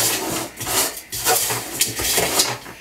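Homemade potting soil for tomato and pepper seedlings being mixed by hand: a steady, close gritty rasping and rubbing that swells and dips in short strokes, with no voices.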